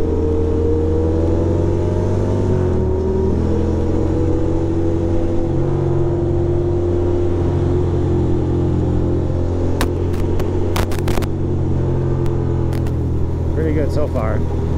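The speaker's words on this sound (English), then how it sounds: "that bike sounds vicious. It's probably in first gear" A Ducati motorcycle in first gear growls and revs steadily close by amid Manhattan traffic, a constant engine drone with rising pitch, with some clicks and rattles near the end.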